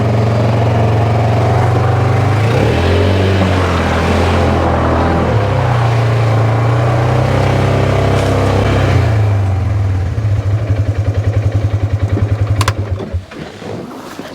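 Four-wheel-drive vehicle churning through thick mud, its engine roaring loud and close with revving surges, then the motor sputtering and dropping off near the end.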